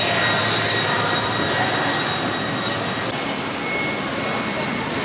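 Swiss Panorama Express train riding along, a steady close rumble of rails and carriage noise with a faint high whine, continuous throughout.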